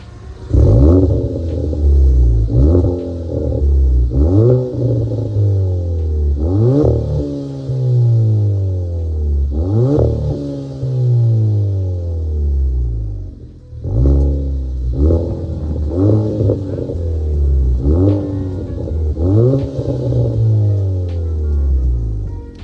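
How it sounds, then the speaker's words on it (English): A loud MBRP axle-back exhaust on a 2023 Kia Forte GT revs up and down repeatedly, with crackling pops, backfires and burbles as the revs fall, a steady rhythm of blips close by. "Oh, it just keeps backfiring, man."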